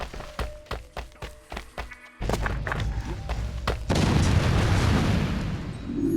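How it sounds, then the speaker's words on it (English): Siege explosions in the video game Assassin's Creed II: Discovery: a rapid series of sharp booming thuds, then a sustained heavy rumble of blasts that grows louder and denser toward the end, with no talk. "Explosions from above, as the siege started again."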